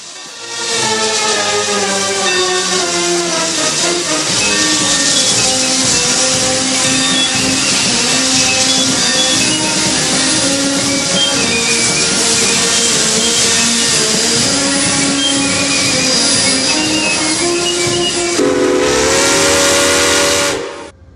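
A Santa Fe steam locomotive's loud, sustained whistle blows for a long stretch over hissing steam as it arrives at a depot during a railroad festival, its pitch shifting slightly before a brief final blast.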